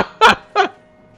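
A chicken in the game Odin Sphere gives two quick, close clucks in a row, loud and distinct against an otherwise quiet background.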